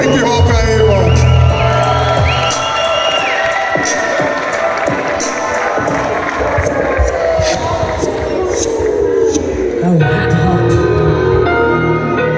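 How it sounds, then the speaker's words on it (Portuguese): A crowd at a live street hip hop event cheers, whoops and shouts loudly and without a break, with voices and some tonal sound mixed into the noise. "Uma salva de palmas pro hip hop aí, irmão."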